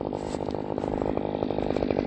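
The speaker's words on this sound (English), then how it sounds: "just using the KM94R hedge trimmer attachment to cut down this weeds" A KM94R hedge trimmer attachment buzzes loudly and continuously up close while cutting down long weeds, its engine holding a steady high-revving whine.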